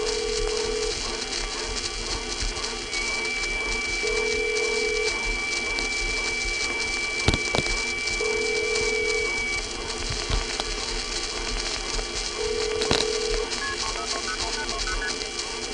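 Vintage telephone network line from the late 1970s, a steady hissy, tonal line drone with a faint high whistle and periodic beeping tones, overlaid with an eerie ghostly wavering sound; a few sharp clicks occur, with no talking.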